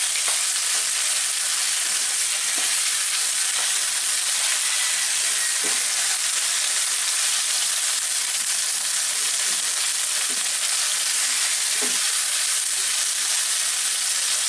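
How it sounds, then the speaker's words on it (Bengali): Spring onion bulbs stir-fried over high heat, giving a steady close sizzle and hiss with occasional soft clicks of stirring throughout. "এখন জালটা বাড়ায় দিই, হাই হিটেই রান্না করার কথা। একটু নাড়াচাড়া করে এটাকে একটু মিলায় নিব।"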